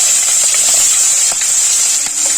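Capsicum and onion frying in hot oil for chilli lote, a steady close sizzling hiss with small crackles and pops throughout.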